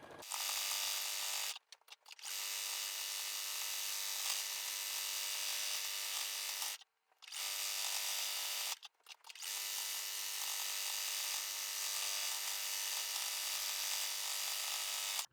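A sewing machine runs a zigzag stitch across a flannel baby blanket. The steady, close whir of the motor carries on alone and stops briefly three times during the run.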